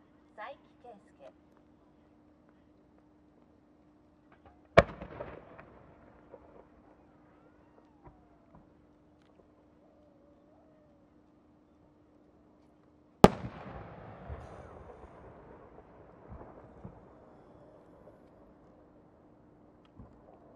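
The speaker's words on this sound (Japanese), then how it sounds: "新作花火" Two big bursts from a new Japanese Omagari display by the Marugo fireworks company boom out, each a sharp, loud crack followed by long fading crackle, spaced about eight seconds apart, with quiet pops between.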